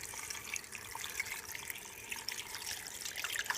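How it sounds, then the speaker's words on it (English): Tap water runs steadily into a stock pot, a continuous splashing rush with no talking. "you're just going to go ahead and fill the stock pot with water"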